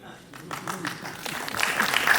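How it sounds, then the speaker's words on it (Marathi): An audience at a political rally in Nashik breaks into applause, the clapping building from scattered claps to a fuller crowd sound over about two seconds while a voice speaks over it. "आता तुम्ही तर टाळी वाजवली"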